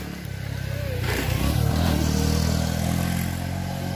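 A motorcycle engine drones steadily and rises as it rolls past nearby, with a rough, rumbling tone and faint rattling.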